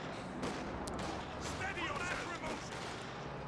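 Panzer IV tank gunfire in the Company of Heroes 2 video game: sharp shots and explosions, one heavier burst near the start, over a constant dense layer of battle noise.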